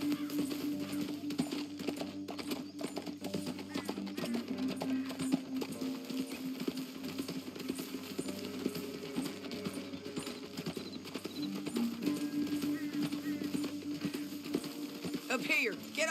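Horse hooves clip-clop steadily on the ground in the Red Dead Redemption 2 video game, a continuous rhythmic trot heard under spoken dialogue and soft background music.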